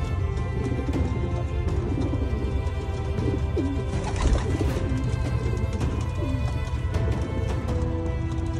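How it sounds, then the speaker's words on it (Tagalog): Several racing pigeons coo softly and steadily around a loft landing board in Alberta, Canada, with low murmuring calls overlapping under a constant outdoor hum and occasional flutters. "Ayun mga kalapatids, nandito na sila sa landing board."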